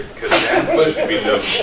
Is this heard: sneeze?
yes